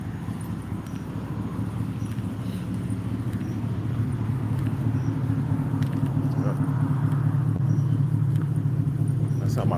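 A truck engine idles in a low, steady rumble that holds throughout, fairly close and continuous, with faint background noise and a voice talking over it.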